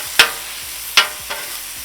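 Thin-sliced beef sizzles on a hot griddle in a steady hiss, punctuated by two sharp scrapes and a fainter third one of a spatula turning the meat.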